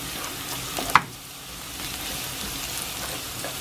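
Garlic frying in a pan for squid adobo, a steady soft sizzle throughout with one sharp clink near the start, close and fairly quiet.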